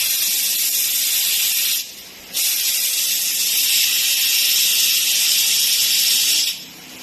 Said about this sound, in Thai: เราดูดน้ำมันเกียร์จนหมดแล้วนะฮะเนี่ย